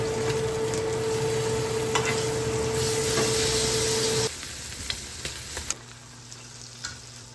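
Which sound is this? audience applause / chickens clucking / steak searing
steak searing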